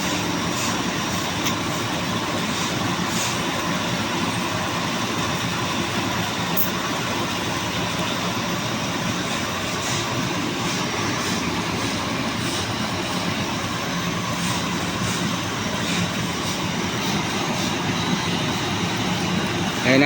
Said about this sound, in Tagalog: Magta-taxi na yung eroplano papunta doon sa kanyang pupwestuhan na para makabuelo siya.